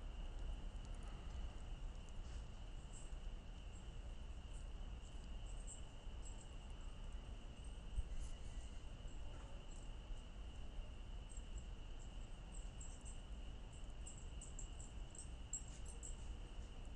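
Crickets chirp steadily at dusk, a faint, continuous high trill over a low background rumble throughout, with no voices.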